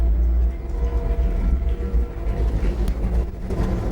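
A train runs past nearby with a continuous heavy low rumble and rolling rattle of wagons, steady and loud throughout without speech.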